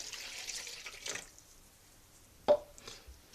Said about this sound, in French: Je vais y ajouter le lait tiède.